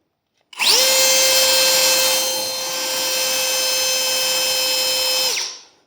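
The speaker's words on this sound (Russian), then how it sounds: "Это моя воздуходувочка, напоминаю." A small cordless electric leaf blower whirs up to a high, steady whine, holds with a slight dip in pitch, then winds down. It sounds close and loud, with no talking.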